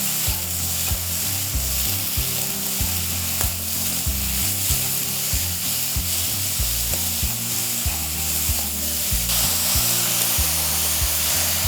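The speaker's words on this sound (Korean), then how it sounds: "자, 버섯이 약 3분간 거의 볶아지면 후반부에 다진 마늘 한 작은술을 넣고 다시 같이 한번 볶아줄게요." Mushrooms stir-fry with minced garlic over high heat, a loud, steady sizzle close by with a regular rhythm of spatula strokes scraping and tossing the pan throughout, no talking.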